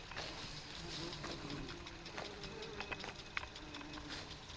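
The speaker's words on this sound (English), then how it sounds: "I don't know if you can hear all those bees, but the bumblebees are really working it right now." Bumblebees work the flowers of a late-evening medicinal garden, a faint, steady buzzing hum that drifts in and out alongside soft ambient background noise.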